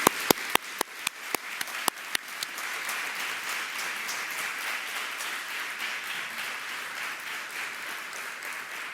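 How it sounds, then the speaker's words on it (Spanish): An audience at a formal event applauds a special guest from Argentina. A few separate sharp claps open it, then quickly swell into sustained, fairly even applause from a crowd. "les pido un aplauso para ellos nuevamente"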